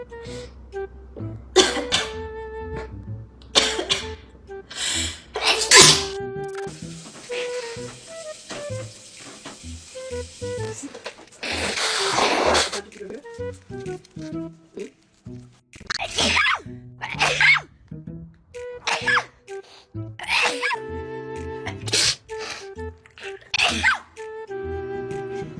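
Sneezes in a shower, several sharp bursts with coughs and throat clearing between them, close and loud over the steady hiss of running water.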